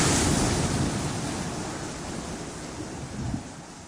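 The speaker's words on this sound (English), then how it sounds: "which were currently playing the sounds of waves crashing." Ocean waves wash in a broad, steady hiss of surf, strongest at the start and slowly fading, with a faint new swell near the end and no voices.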